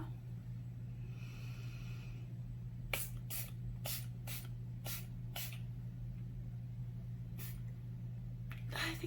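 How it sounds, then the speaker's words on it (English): Several short hissing sprays of makeup setting spray in quick bursts, then a couple more after a pause, close by over a steady low hum. "Oh, I didn't use the setting spray."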